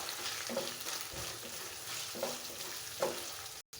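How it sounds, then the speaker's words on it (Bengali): Onions frying in a pan with bay leaf, cinnamon and cardamom, a steady close sizzle with a few soft stirring clunks, no voices. "পেঁয়াজটাকে ভালোভাবে ভেজে নেব।"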